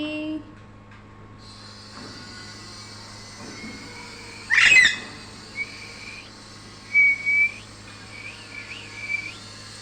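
A red-beaked pet parrot gives a few short, bright whistles close by, spaced out between quiet pauses over a low steady indoor hum.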